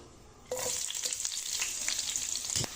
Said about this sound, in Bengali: এখন এই পেঁয়াজ আর কাঁচামরিচটা দিয়ে দিব।